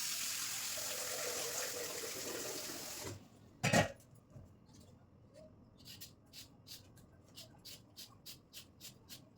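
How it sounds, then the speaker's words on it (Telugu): A kitchen tap runs steadily into a pot of water for boiling sweet potatoes, a loud even gush for about three seconds before cutting off, followed by a sharp clank and a series of faint rhythmic ticks. "నీళ్ళు పెట్టేసుకోవాలండి."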